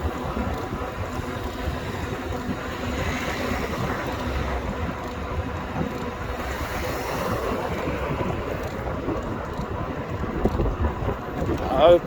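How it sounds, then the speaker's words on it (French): Constant wind buffeting a phone's built-in microphone outdoors, a steady low rumbling roar that stays loud and unbroken for the whole stretch, with no clear voices over it. "Donc avec le vent, c'est pas gagné"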